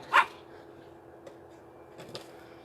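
One sharp puppy bark rings out close at the start, followed by faint, softer yips and rustling in a quiet room.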